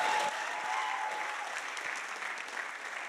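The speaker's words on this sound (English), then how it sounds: "Can we give a round of applause for Jenny?" A church congregation gives a round of applause during a Sunday morning service, a broad, sustained crowd clapping heard from a distance at a quiet level, with a murmur of voices beneath it.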